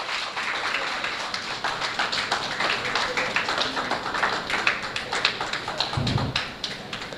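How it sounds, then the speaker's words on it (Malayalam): Audience applause at a Malayali community association gathering during a felicitation ceremony, a dense, steady patter of many hands clapping that carries on without a break for the whole stretch, moderately loud and close. "എല്ലാവരും ഒന്ന് കൈയടിച്ച് പ്രോത്സാഹിപ്പിച്ച്."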